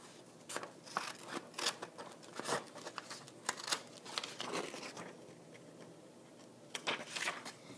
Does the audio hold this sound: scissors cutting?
yes